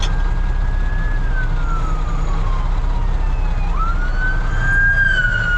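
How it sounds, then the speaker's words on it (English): Emergency vehicles, an ambulance, a fire truck and a trooper or sheriff car, pass a truck on the road, their sirens wailing loud and steady, with one siren sweeping and dipping over constant engine and road rumble. "I just got passed by an ambulance and an EMT, and here's another one, or fire, and a trooper or sheriff."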